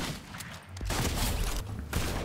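Gunfire in Fortnite during a solo-versus-squads match, a few quick bursts of shots crackling over a short stretch amid game ambience, moderately loud and close.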